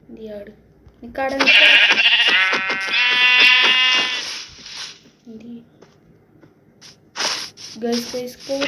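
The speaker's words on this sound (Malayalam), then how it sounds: "ആട് ആട് ആട്" A goat in a Minecraft-like video game gives a loud, wavering bleat lasting a few seconds, followed by shorter bleats, with a voice speaking briefly between them.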